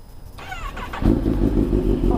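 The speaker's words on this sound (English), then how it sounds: "let's get this exhaust note" A high whine cuts off, a few chirps follow, then an engine bursts into a deep, loud, raspy rev that holds through the rest.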